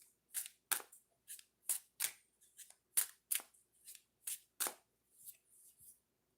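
Tarot cards riffle and slap together as a deck is shuffled and a card is drawn, making close, sharp papery bursts in a quick irregular rhythm with brief pauses between them.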